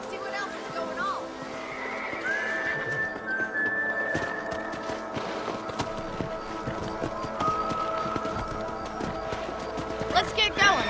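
Horses in the western video game Red Dead Redemption whinny and snort over hoofbeats, with voices talking throughout and game music and effects mixed in.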